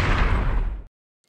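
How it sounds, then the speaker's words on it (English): Tank cannon shot built by layering a gun thud, a long-tail gunshot and extra low-frequency elements for an RC battle scene; one heavy, bass-rich boom held for nearly a second, then cut off abruptly, with no speech. "So that's the sound of the tank shots."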